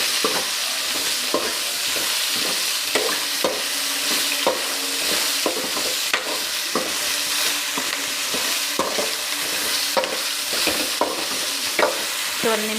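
Fried okra being stirred in a pan while making bendekayi sambar, a dense steady sizzle with frequent spatula scrapes and taps recurring every second or so, close and loud throughout.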